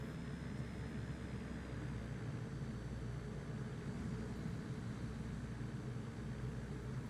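A propeller aircraft engine droning steadily in the flight simulator FS24 during a rural climb, a constant low rumbling hum at fairly low volume with no breaks or talking.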